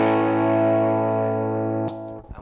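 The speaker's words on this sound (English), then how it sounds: "we've got the Echoplex here. If we turn that to full gain," A sustained, heavily distorted electric guitar chord through a Dunlop Echoplex EP101 preamp at full gain rings out loud and thick, slowly decaying before a brief scrape and clatter at the end.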